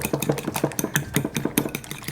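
Eggs whisked in a bowl with a steady rapid rhythm of quick taps and scrapes, close and clear, with no voices.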